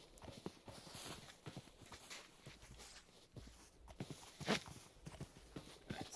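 Faint clip-clop of a horse walking in a video game, with steady hoof taps under a soft background hiss.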